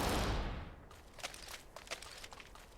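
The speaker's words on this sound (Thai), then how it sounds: "ข้างหน้ามีเสียงปืนนะ ข้างหน้ามีเสียงปืน" Distant bursts of gunfire in the video game Super Mecha Champions crackle faintly after a loud whooshing swell fades, with scattered sharp pops spread over a couple of seconds.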